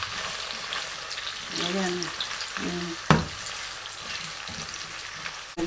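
Chopped onion sizzles and crackles in hot oil in a pan, a steady frying hiss with stirring scrapes and one sharp utensil knock, while someone speaks briefly over it.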